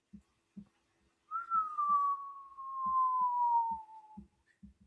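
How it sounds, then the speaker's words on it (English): A single sustained whistle tone, clear and steady, gliding slightly downward over about three seconds, with soft rhythmic thumps before and after it. "What was the whistle for?"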